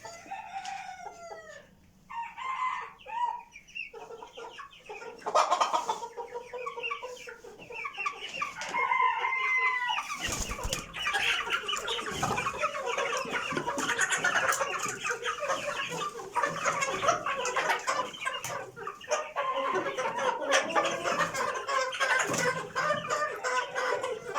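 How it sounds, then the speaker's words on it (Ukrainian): About 30 chicks cheep and peep in a busy overlapping chorus, with occasional louder clucks and rustling, continuous and close throughout. "Тут близько 30 курчат."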